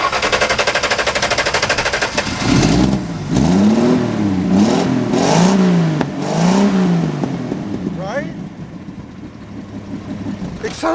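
Old beater car engine cranking with a rapid chattering rattle, then catching and revving in several rising and falling swells before settling to a rough idle, loud and close, with a voice speaking near the end.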